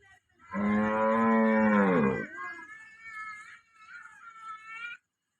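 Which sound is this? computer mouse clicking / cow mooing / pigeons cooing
cow mooing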